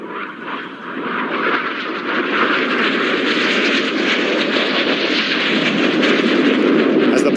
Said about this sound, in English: The jet's about to perform opposition barrel rolls before pulling into a tight 360-degree circle in front of you